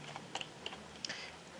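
A brief burst of quiet computer keyboard typing, a handful of soft, irregular key clicks close by.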